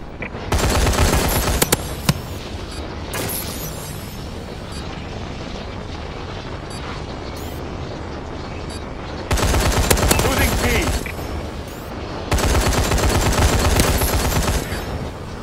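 Remote turret machine gun fire in a military shooter video game, loud sustained automatic bursts, some long and some short, over a steady background of combat noise and aircraft rumble.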